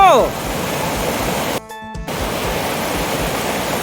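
Water flowing strongly through a stream during a high-water season, a loud, steady rushing wash heard close. It cuts out briefly for about half a second midway, then resumes.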